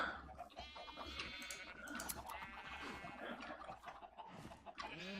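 Sheep bleat in Minecraft during shearing, several wavering calls in a row against a faint background, with no talk.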